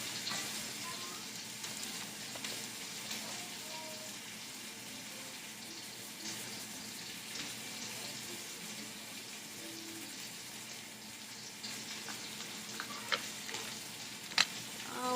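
Pork sirloin steaks sizzle steadily in a pan after being flipped, a continuous fizzing hiss with faint clinks and scrapes toward the end, no talking.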